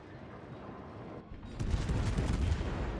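Heavy naval guns boom in World of Warships as the Anchorage fires on a Richelieu, a deep rumble swelling suddenly and rolling on loudly.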